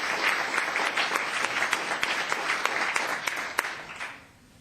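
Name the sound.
audience applause at town council meeting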